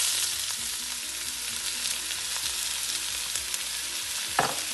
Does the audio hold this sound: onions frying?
yes